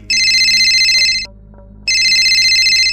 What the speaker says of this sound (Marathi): तेवढ्यात माझ्या मोबाईलची रिंग वाजली